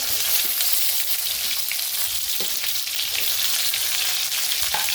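Steady, dense sizzling of masala-stuffed brinjals frying in a hot pan after mustard seeds, continuous and fairly loud, with occasional faint pops and no talking.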